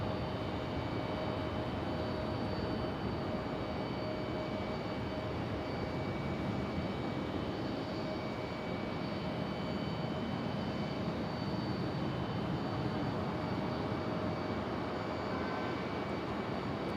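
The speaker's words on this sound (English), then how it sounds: "This one was JetBlue Airways 1591 and Airbus A320 headed to Orlando." A JetBlue Airbus A320 at Raleigh Durham airport, bound for Orlando, produces a low, steady distant jet drone with a faint high whine, constant and quiet throughout, with no one speaking.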